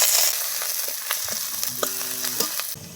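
Chopped onion and chilli frying in oil in a pan for a shrimp dish with ridge gourd, a steady close sizzle with scattered crackles and a few brief scraping stir sounds, no talking.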